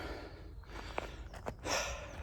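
A person pants after walking to a fishing swim by a lake: a few soft, quick breaths and snorts close to the microphone, faint against outdoor background noise.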